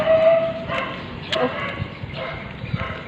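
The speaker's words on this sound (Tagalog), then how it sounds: "May aso pala dito sa malaking bahay nila guys." A dog at a large house gives a few short barks and yips, moderately distant, with a quiet outdoor background and no voice over them.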